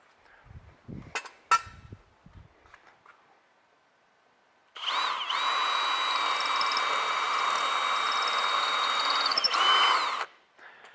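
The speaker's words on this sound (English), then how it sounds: "I'm going to drill some pilot holes" A power drill whirs steadily for about five seconds drilling pilot holes for a Hoist-A-Top crank unit, after a few light handling knocks and taps, running loud and close before stopping.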